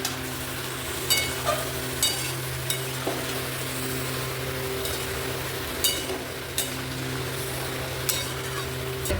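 Chicken in masala stir-frying in a pan, with a low steady sizzle and a spatula clinking against the pan every second or so.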